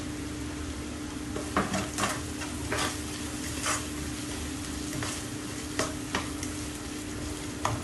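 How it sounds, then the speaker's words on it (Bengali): A spoon stirs tomato paste in a frying pan for chili paneer, scraping and clinking at irregular intervals over a steady sizzle, close by with no talking. "মিক্স করতে হইব টমেটো পেস্ট"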